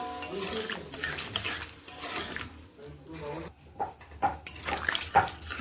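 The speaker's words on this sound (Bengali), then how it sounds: "এবার এইভাবে একটুখানি নেড়ে নিচ্ছি" A spoon stirs a simple potato curry in a pan after water has been added, giving soft scraping and clinking close by amid low background noise.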